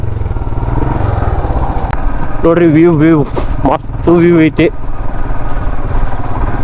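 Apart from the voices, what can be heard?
motorcycle riding on an off-road track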